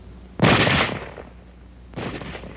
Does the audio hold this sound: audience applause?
no